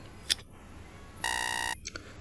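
A countdown timer effect on a quiz lesson gives a short beep, then a sustained bright electronic buzzer tone lasting about half a second, followed by a couple of quick soft blips, with no talking.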